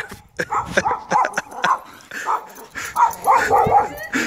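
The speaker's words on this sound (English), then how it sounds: "So Monica's about to let the dogs out" Dogs let out into a snowy yard bark and yip near the listener in quick, uneven bursts, mixed with a few whimpers, while people talk over them.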